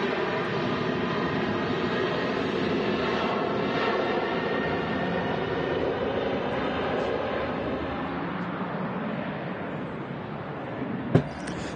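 Boeing 747 airliner pulling onto its stand at Manchester Airport Terminal 1: a steady, broad jet engine roar held at a constant level throughout, with one brief sharp knock near the end.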